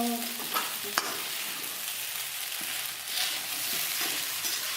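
Sabudana khichdi with fried potatoes sizzles and fries steadily in a pan, a continuous close hiss broken by a few soft scraping stirs and a brief knock of the spoon against the pan.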